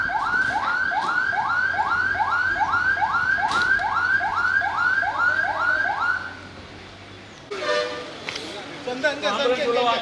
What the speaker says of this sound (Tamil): அடுத்ததாக நமது நீர்தாங்கி வண்டி, வாட்டர் டெண்டர் எனக்கூடிய நீர்தாங்கி வண்டி உள்ளே வருகிறது.